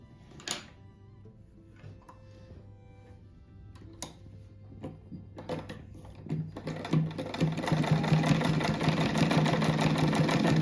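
A sewing machine stitches a seam on a crazy-patchwork rug of fabric scraps: scattered clicks at first, then the motor builds into a steady, louder whirring run of stitches near the end.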